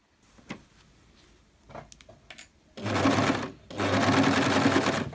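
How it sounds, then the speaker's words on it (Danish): A sewing machine stitches around a homemade sweatshirt in a kitchen, starting with a few soft clicks and handling noises before two sustained bursts of rapid, close machine whirring separated by a brief pause. "Og så er vi klar til at sy rundt"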